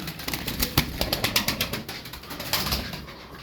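Pigeons flap their wings in a rapid burst of fluttering beats, close and fairly loud, with soft cooing underneath.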